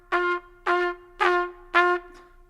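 Four separate trumpet notes on the same pitch, each blown loud with a tight, unwidened lip aperture, giving a thin, strained, buzzy tone; short bursts of about a third of a second with brief gaps, close and alone.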